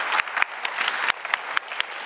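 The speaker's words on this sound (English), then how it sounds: "a big round of applause to Andy and Sebastian" Audience applause for two panel speakers at a talk on making polluters pay, a steady, moderately loud patter of many hands clapping with occasional sharper claps standing out.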